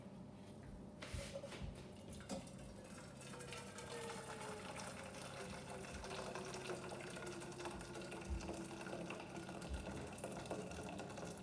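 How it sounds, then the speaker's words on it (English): Hot water poured from a kettle into a pan, a steady continuous pouring and splashing wash that runs for about eleven seconds at even, moderate loudness with no talk. "Now I'm going to get this water from the kettle and put it into a pan."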